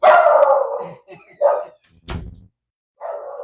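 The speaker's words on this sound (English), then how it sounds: "I don't know what he's barking at." A dog barks nearby in a few separate loud woofs with short pauses between them.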